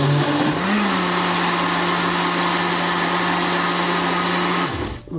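A blender whirs steadily as it mixes batter of flour and semolina for baghrir, Algerian crêpes, a loud constant motor drone for several seconds that winds down and stops at the end.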